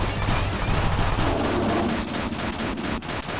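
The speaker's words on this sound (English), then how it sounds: "This is a game where I can shoot diagonally and it actually works" Rapid digital gunfire from the animatronic platformer FNAF World: Outplay during a boss fight, a dense continuous stream of shots with sharp periodic cracks over steady game noise.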